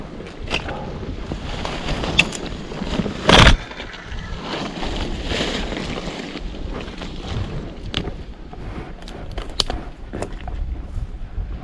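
Strong wind gusting outdoors across a microphone, a rough, continuous rumble with one sharp loud buffet a few seconds in and scattered small knocks and rustles, no speech.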